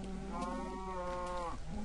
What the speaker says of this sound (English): I've got a bunch of cows following me.